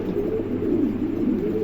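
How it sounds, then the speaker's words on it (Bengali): A pair of large black pigeons coo nearby, a low, throaty, continuous murmur of rolling coos without pauses. "দর্শক এখানে এক জোড়া দেখেন কবুতর আছে, চমৎকার এক জোড়া।"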